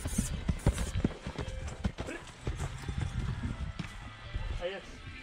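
A Percheron stallion's hooves clip-clop in a quick, irregular stream of loud, close thuds on a Ukrainian farm. People talk in the background throughout.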